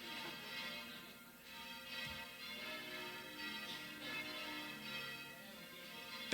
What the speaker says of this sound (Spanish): No debían de sonar las campanas como están sonando ahora